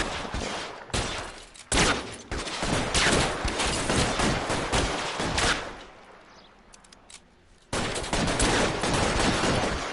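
Gunfire in L.A. Noire, a dense ongoing firefight with overlapping shots and bursts filling the scene, easing briefly toward the end before another loud volley.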